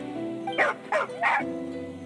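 A dog in the Genshin Impact video game gives three quick barks, each short and fairly close, set against a steady game soundtrack hum.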